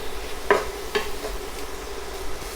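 Vegetables sear in a hot pan for turkey sausage gravy, a faint steady sizzle with a few light scraping stirs of a utensil against the pan, no talking.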